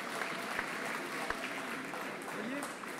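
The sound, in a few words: audience applause welcoming the finalists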